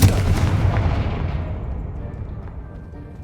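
A Confringo spell explodes in the Hogwarts Legacy video game with a single loud, deep boom whose rumble fades away over a few seconds.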